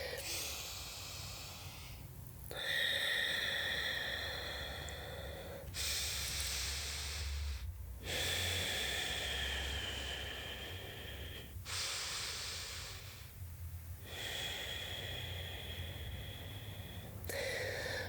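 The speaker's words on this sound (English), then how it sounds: "nice deep breaths. 3 more full rounds of breath" Slow, deep breaths during a vinyasa flow yoga class, each long airy inhale and exhale separated by short pauses, repeated steadily and heard up close.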